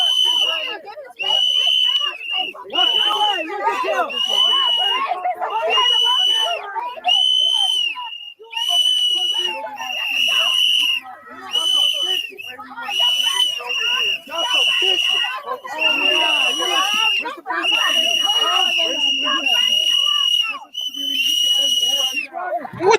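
Shrill whistles blow again and again in quick bursts during a heated street confrontation, loud and piercing over shouting and crowd noise.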